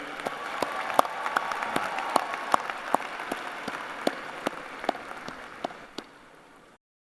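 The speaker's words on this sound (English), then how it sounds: "How about one more round of applause from me to you?" Sparse, fairly quiet clapping for graduates at a medical academy commencement ceremony, individual claps distinct over a soft crowd murmur, thinning out before cutting off abruptly.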